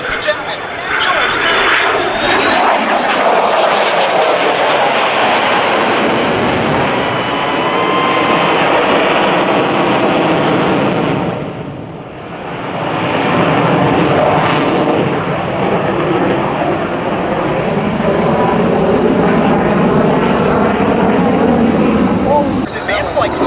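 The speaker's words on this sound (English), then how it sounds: "Watch from the right as the Raptor demonstrates its tight turn capability with the minimum radius horizontal turn and then power straight up into the vertical." An F-22 Raptor jet fighter performs a tight minimum-radius turn and vertical climb at the 2023 Cleveland National Air Show, its loud roaring jet engines sweeping past with a brief dip mid-pass, under an announcer's voice over loudspeakers.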